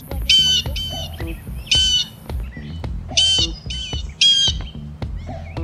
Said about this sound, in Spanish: Creo que es un loro enorme.